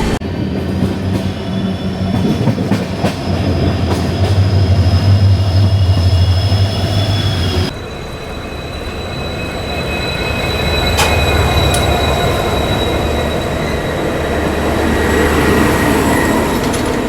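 A night train crossing near Dudhsagar falls on the Bangalore–Goa route rolls loudly and steadily on the tracks, with a constant rumble, squealing wheels and occasional clatter throughout.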